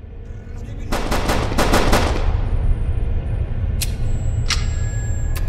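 Rapid bursts of automatic gunfire in a Skibidi Toilet video game crack loudly close by, followed by a couple of sharper single shots and a lingering hum.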